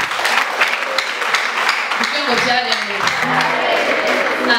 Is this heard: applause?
yes